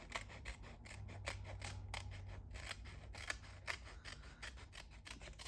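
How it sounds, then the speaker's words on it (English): Scissors cut designer series paper with a quick series of crisp snips, evenly spaced clicks repeating close up and quietly with no talk. "You can also cut a strip of designer series paper"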